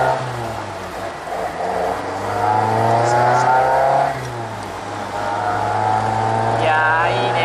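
A car engine revs up and settles while driving along a seaside road near Enoshima, Kanagawa, with steady engine drone throughout and a rising, accelerating pitch sweep near the middle, fairly loud and close.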